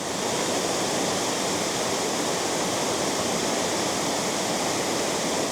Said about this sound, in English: Triberg waterfall is one of the largest waterfalls in Germany, 7 cascades long